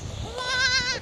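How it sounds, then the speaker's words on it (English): A full-grown goat on a small farm lets out one loud, close, wavering bleat lasting under a second, with low background noise and no talk. "this is a full-grown goat"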